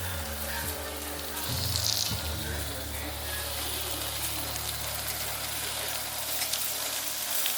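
Mushrooms sizzle in butter in a skillet, a steady dense crackle with a few louder bursts early on and no talk over it.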